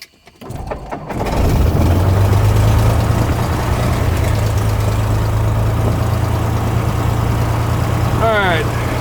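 A light aircraft piston engine cranks and catches during a preliminary run-up, then settles into a loud, steady idle with a low drone, and a short whine near the end.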